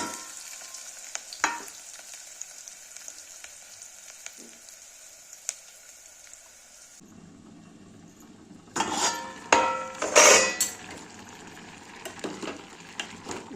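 Onion and chili frying in a pan for chapati pieces. A faint background hiss runs for several seconds, then louder sizzling rises with sharp clinks and stirring scrapes near the end. No one speaks.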